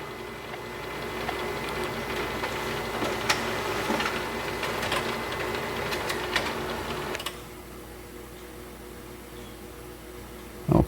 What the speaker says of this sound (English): So let's print this